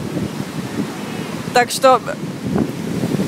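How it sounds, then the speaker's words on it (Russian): Mediterranean Sea surf at a Tel Aviv beach makes a continuous broadband wash with wind buffeting the microphone, while a person speaks briefly over it. "Вот такие классные волны сегодня на море Средиземном."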